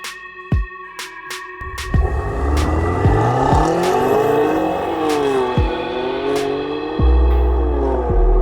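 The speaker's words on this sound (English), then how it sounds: "Big boy M5 versus a very Russian looking M4" A BMW M5 and a BMW M4 line up for a drag race. Powerful engines rev hard and roar close by, rising and falling through repeated throttle blips, with sharp bangs and a sustained loud drone.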